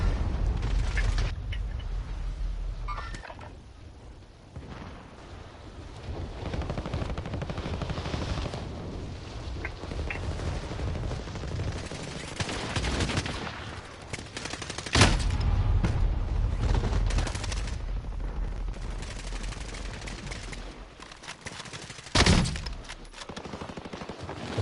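Hostile gunfire in Call of Duty Warzone on Rebirth Island: rapid bursts of shots and occasional heavy booms come from near and far, with a continuous rumble of battle underneath.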